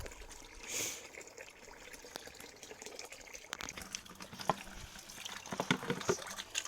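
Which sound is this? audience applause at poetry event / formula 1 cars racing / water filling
water filling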